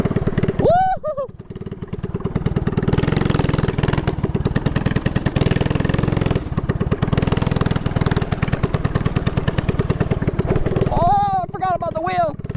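A Honda dirt bike converted into a three-wheeler with no suspension runs at full throttle, its engine buzzing loudly and steadily for most of the ride with short rev swells, while a rider shouts and talks over it.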